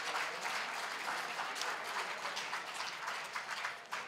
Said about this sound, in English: once again give Mamus Dia a round of applause